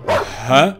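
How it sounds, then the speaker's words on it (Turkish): A dog in the GTA 5 video game gives two quick, loud barks close by, the whole burst lasting under a second. "Bir köpek sesi duydunuz mu komiserim?"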